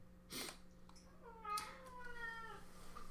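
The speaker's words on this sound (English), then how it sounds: "My cat wants out." A pet cat wanting to be let out gives a couple of faint, drawn-out meows indoors, with a soft low hum in the background.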